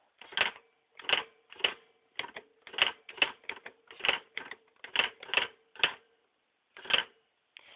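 A Panasonic T34 electronic typewriter strikes keys up close, about fifteen crisp mechanical clacks in uneven bursts with short pauses between them, heard alone in a quiet room.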